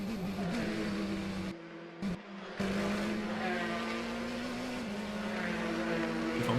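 Onboard a very light Formula 3 race car at Macau, the engine holds a steady high-pitched whine, cuts out briefly during a sharp gearchange or braking gap, then returns to a loud, climbing drone.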